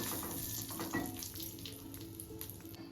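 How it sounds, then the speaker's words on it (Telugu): Cashew nuts frying in ghee as a garnish for meal maker pulav, a steady close sizzle and crackle running for the whole three seconds with no talk. "గార్నిష్ కోసమని నేతిలో జీడిపప్పుని ఫ్రై చేస్తున్నాను"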